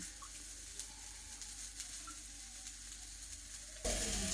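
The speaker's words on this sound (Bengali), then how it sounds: "আর যে আমাদের শেফ উড়িয়ে উড়িয়ে বানাচ্ছে, তাওয়া উড়িয়ে উড়িয়ে হাক্কা।" Hakka chowmein sizzling on a tawa as a chef tosses it, a quiet steady hiss with faint clinks and taps, rising into a louder burst of frying at the end.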